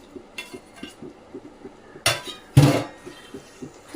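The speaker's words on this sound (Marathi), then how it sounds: "आता ही जी कालवं आहे ती मी सगळी सोडते ह्याच्यात." Oysters go into a pan of cooked tomato and ground masala: soft clinks and taps give way to two loud, close clattering dumps of metal against the pan, with no talk.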